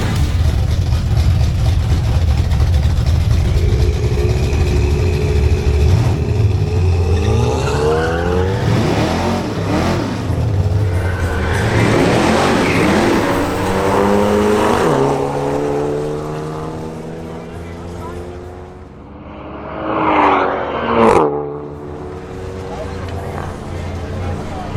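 A BMW M240i launches down a drag strip, its engine rising through loud, sweeping revs with gear changes, then fading as the car pulls away; a commentator talks over the run.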